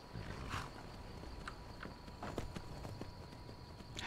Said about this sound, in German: Habe ich einmal ein Pferd, trampel ich schon alles nieder